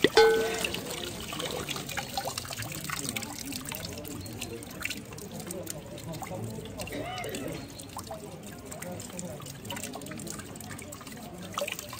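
Mountain spring water trickles and splashes steadily close by in Hallstatt, Austria, a soft continuous burble with occasional drips, while people talk faintly over it.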